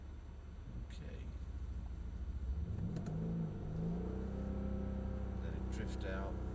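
A Mercedes-Benz E63 AMG drifting on a track at Mercedes-Benz World in Brooklands, its engine holding a steady mid-pitched drone that rises and falls with light throttle, while people talk over it.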